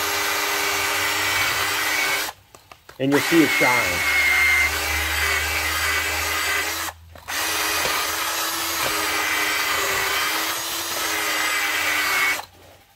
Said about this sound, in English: I'm going to take this drill and then I'm just going to clean the seat a little bit.